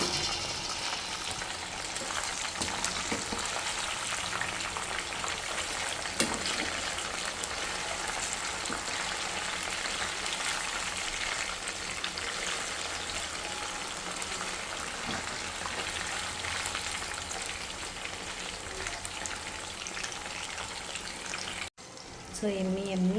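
Chicken pakoda frying in oil over a medium flame, a dense continuous crackle and sizzle that holds steady throughout, close, with a voice talking over it.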